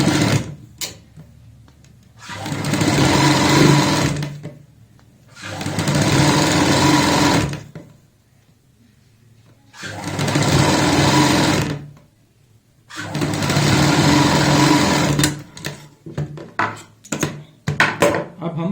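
A domestic sewing machine stitches the collar of a child's jacket in four sustained whirring runs of a few seconds each, close and loud, separated by short quiet pauses and a few light handling clicks at the end.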